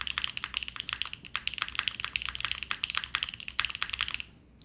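Fast typing on a custom Kohaku mechanical keyboard, a close stream of sharp, even keystroke clicks in steady bursts that stops abruptly, leaving faint room tone.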